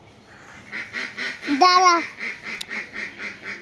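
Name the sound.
ducks quacking while being fed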